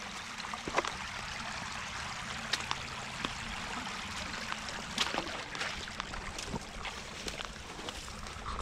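A creek flows steadily around hikers crossing it on the Appalachian Trail at East Fork Lake, a continuous close wash of water with scattered splashes and footfalls.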